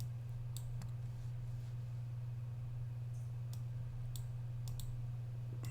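Computer mouse clicking through a crypto exchange app, a handful of faint, sparse clicks over a low steady electrical hum.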